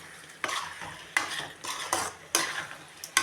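Nellore chicken curry is stirred in a pan, with a spoon scraping through the thick, sizzling curry in several distinct strokes roughly every half second to second, close and clear with no talking.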